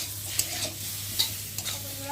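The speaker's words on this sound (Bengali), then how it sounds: "মশলাটা ভালো করে কষিয়ে নেব" Spice paste sizzles in hot oil for a parshe fish dish while a spoon scrapes through it, with a few sharp stirring clinks over the steady frying.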